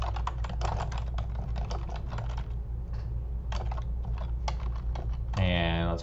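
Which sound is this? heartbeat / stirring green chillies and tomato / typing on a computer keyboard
typing on a computer keyboard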